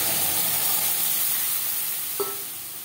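Boiled mung dal tipped into a pan of frying coconut, with a strong, steady sizzle and hiss close by and a brief stirring knock near the end.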